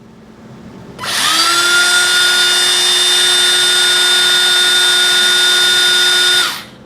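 Dongcheng cordless brushless impact driver running steadily at medium speed, a loud sustained whine that starts abruptly, holds an even pitch for about five seconds and then cuts off, with no voices.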